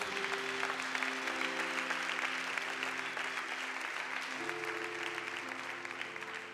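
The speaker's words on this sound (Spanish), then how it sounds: "Dale un aplauso a Dios." A church congregation applauds, a steady, dense wash of clapping from many hands that continues throughout, moderately distant, with soft music or a sustained tone underneath.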